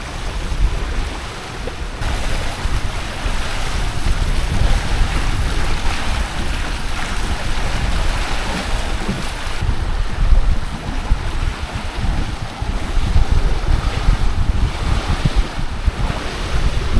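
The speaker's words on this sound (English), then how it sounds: "The wind is picking up even more" Strong wind and breaking waves rush steadily around a Hobie Cat 16 catamaran sailing at speed, a loud continuous roar of gusts buffeting the microphone with water hissing and spraying along the hull.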